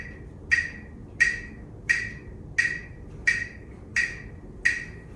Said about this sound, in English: you can use a handy device called a metronome, used for keeping time